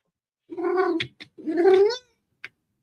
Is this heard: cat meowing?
yes